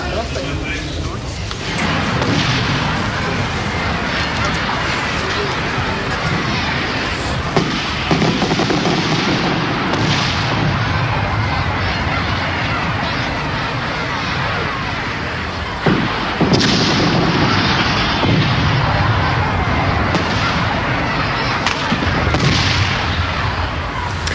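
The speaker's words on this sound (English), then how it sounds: "One of the worst things that can happen is to have a firework go off on in your pocket." A continuous dense roar of crackling bursts and booms over about twenty-five seconds, with sharper pops near the middle and later, loud and close, with voices mixed in.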